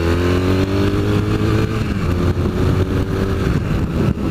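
A 2015 Triumph Thruxton motorcycle engine drones loudly and steadily while riding, its pitch shifting slightly as the bike accelerates, with wind rumble throughout.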